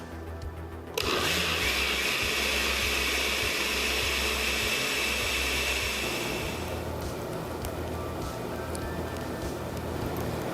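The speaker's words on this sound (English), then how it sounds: "Now let's start frying our pork steaks and our sausage." Marinated pork steaks and sausage sizzle in a hot frying pan, a steady loud hiss and crackle that starts abruptly and continues unbroken, with a low hum underneath.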